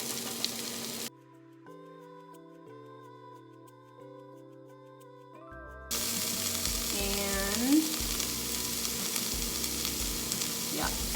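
Well-cooked onions and freshly added shredded carrot fry in a pan, giving a steady, close sizzle that begins abruptly after a brief melodic jingle and carries on with faint stirring.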